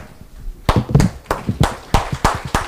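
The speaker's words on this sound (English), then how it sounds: "Please give one loud clap" An audience in a medical exam lecture setting claps in short, sharp bursts, about seven distinct loud slaps spaced roughly evenly over a few seconds, close and clear.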